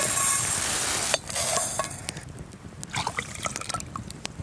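Vegetable stock crumbling into a billy can of rice at an outdoor night camp in Snowdonia: a brief hiss, then faint scattered crumbly ticks and light liquid stirring, close by with no talk.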